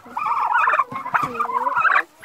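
Turkeys gobble loudly up close on a farm, a rapid warbling burst of several overlapping calls lasting about two seconds.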